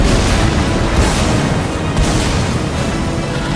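Loud, dense bomb explosion from the game TAU: Merge Madness, a sustained booming roar filling the whole moment without a break.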